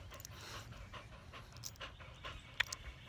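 A dog pants steadily and fairly close, with quick rhythmic breaths and a couple of brief sharp noises toward the end.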